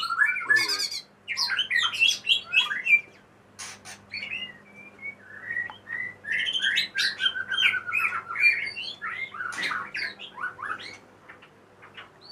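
Loud, varied singing of a white-rumped shama close by: rich whistled phrases, trills and chirps repeating one after another with brief pauses, over a low steady hum.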